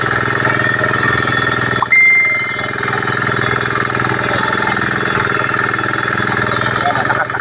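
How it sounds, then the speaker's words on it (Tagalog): A ride-on machine harrowing a flooded rice field with a person seated on it; a steady mid-pitched engine drone runs throughout, loud and close, with a brief dip partway through. "Ganyan po ang makabagong pamamaraan ng pagmamakina o pagsusuyod ng nakasakay po ang tao"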